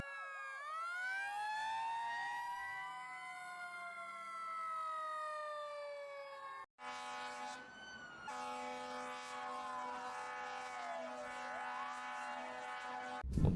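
A toy fire engine's electronic siren wails in sweeping, rising and falling tones, then switches to a steadier buzzing electronic pattern, close and fairly quiet, with no talking over it.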